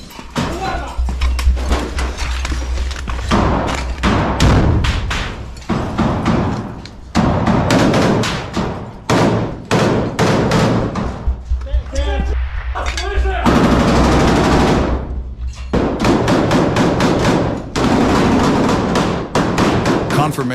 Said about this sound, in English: Inside, a fierce firefight breaks out,